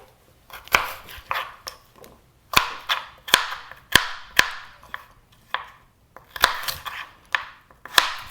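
A knife chops vegetables, likely yams, on a cutting board in sharp, close strikes that come in irregular bursts with short pauses, with no voices.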